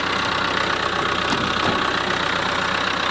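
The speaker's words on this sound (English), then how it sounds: "That engine sounds so nice." A car bought at a salvage auction idles steadily close up, a smooth even engine hum with a faint mechanical tick and no voices over it.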